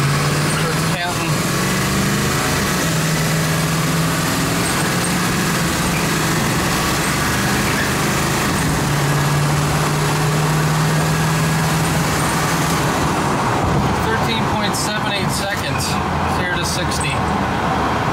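Ford 7.3 diesel E350 van from 2000 pulling away from a stop, a steady loud engine drone rising through the gears with road noise, heard from inside the cab.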